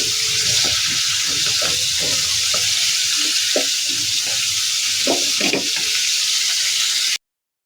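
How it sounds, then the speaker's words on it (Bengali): Fried young jackfruit pieces sizzle in spiced masala in a pan, a steady close frying hiss broken by scraping stirs and small clinks, with no talking. "মশলার সাথে ভালোভাবে কষিয়ে নেব।"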